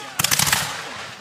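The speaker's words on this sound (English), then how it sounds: "they're cutting out lines and firing by company" Revolutionary War reenactment musket volley fired by company at Fort at No.4: a ragged burst of several close-spaced shots crackling together, then a fading rumble, heard from a moderate distance.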